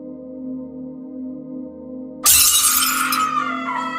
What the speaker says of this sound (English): The glass has finally snapped.